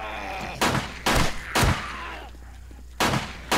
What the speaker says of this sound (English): Third shot's a charm.